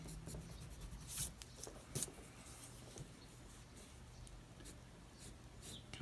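Pencil sketching lines of a male head on paper, a soft continuous scratching and rubbing with a few brief louder strokes, close and faint.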